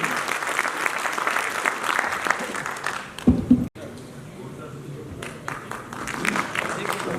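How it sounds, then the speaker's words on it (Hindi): Applause rises at an annual general body meeting, with steady clapping from a hall audience that swells briefly and then fades while a voice carries on over a microphone. "एक बार जोरदार तालियां"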